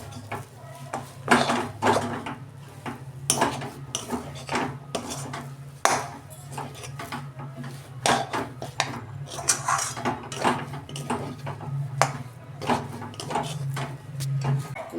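Cooked semolina dough worked in a pan, a run of close, sharp knocking and scraping clatters in an uneven rhythm, with a low hum and faint talk underneath.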